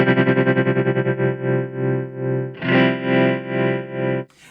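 A Keeley Verb O' Trem pedal chops sustained guitar chords with square-wave tremolo, first as rapid even on-off pulses, then as slower swelling throbs, loud and clear with no talk.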